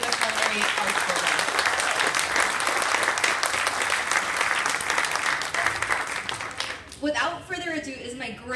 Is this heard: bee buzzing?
no